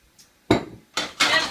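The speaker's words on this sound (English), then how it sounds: "we're going to put some butter and olive oil into the pan" Butter and olive oil land in a pan while preparing chicken piccata, giving three bursts of clattering, sizzling noise that grow louder, the last one sustained, with no talking.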